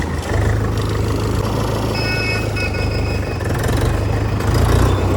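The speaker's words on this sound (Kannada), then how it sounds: "ನೋಡಿ ಈ ಟ್ರ್ಯಾಕ್ಟರ್ನ ನ್ಯೂಟ್ರಲ್ ಮಾಡ್ಕೊಂಡೇ ಸ್ಟಾರ್ಟ್ ಮಾಡಬೇಕು." A Mahindra 475 DI H1R tractor engine, started in neutral, settles into a steady, loud, low diesel idle with an even chugging rumble, close by and without voices.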